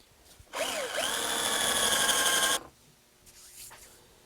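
A power drill bores holes in the wood of a handmade ski chair, running in one loud, steady two-second burst after a brief start, then stopping, with faint handling noise afterward.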